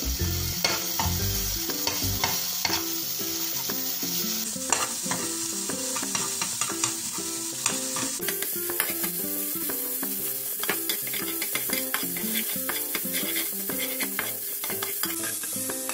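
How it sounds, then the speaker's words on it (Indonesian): Garlic and shallots fry and get stirred in a pan for an oyster omelette, a steady close sizzle broken by frequent scraping and clinking strokes throughout, with no talk. "Lalu masukkan guncangan bawang putih dan bawang merah tadi."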